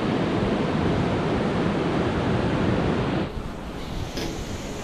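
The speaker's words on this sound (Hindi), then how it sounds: "कंजोति और कंजोति वाटरफॉल का दृश्य देखिए दोस्तों, क्या शानदार नज़ारे हैं।" Kanjoti waterfall near Dharchula, a loud, steady broadband roar of rushing water with wind buffeting, continuous and close, easing slightly near the end.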